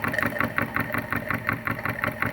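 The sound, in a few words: PM Research No 3 model steam engine running slowly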